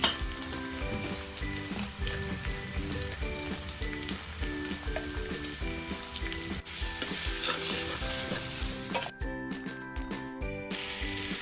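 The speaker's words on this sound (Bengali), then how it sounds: "আদা রসুনটা ভাজা ভাজা হয়ে গেলে আমরা দিয়ে দেবো টমেটো" Ginger, garlic and tomato sizzle loudly in a pan for fish egg bhurji while a utensil stirs in a regular scraping rhythm; near the end the frying briefly drops away and a short running-water sound cuts in.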